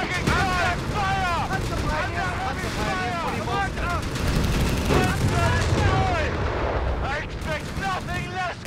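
Dense battle din from Company of Heroes 3: continuous gunfire and booming cannon and artillery fire, with whistling shells and overlapping shots throughout, loud and close, while voices shout over the fighting.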